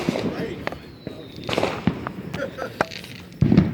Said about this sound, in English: We're just lighting off artillery shells and cakes and all sorts of things.